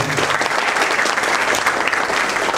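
A packed campus talk-show audience bursts into loud, dense applause, steady continuous clapping filling the room with no voices over it.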